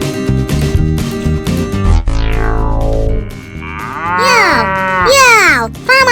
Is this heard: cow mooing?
yes